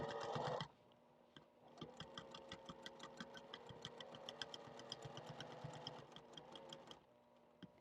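Sewing machine stitching along the edge of a quilted mug rug, a steady close rhythmic mechanical chatter with regular needle ticks after a brief louder rustle at the start, then stopping near the end.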